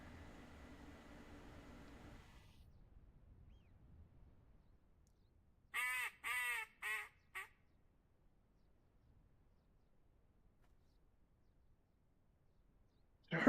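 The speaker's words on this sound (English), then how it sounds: "I heard a widgeon yet again" A wigeon duck calls from a duck-hunting blind: four short, bright, harmonic notes in quick succession at moderate distance, following a stretch of low rustling and near-silence.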